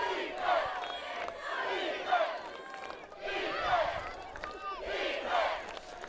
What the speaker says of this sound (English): The hometown crowd chanting for the defense.